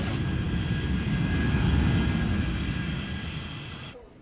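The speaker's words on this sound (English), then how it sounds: "It's our first flight coming in, United from Chicago." A United jet airliner arriving from Chicago lands at Heathrow, its engine roar loud and broadband, swelling slightly and then fading as it passes, with a steady whine on top.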